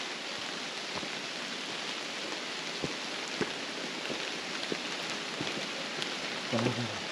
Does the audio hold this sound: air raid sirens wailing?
no